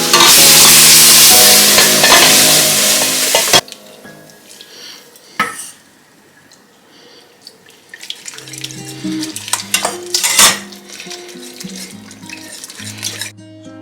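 Bechamel sauce of milk is stirred in a pot, opening with a loud rushing burst, then quieter scrapes and sharp utensil clinks against the pot, with intermittent faint hums.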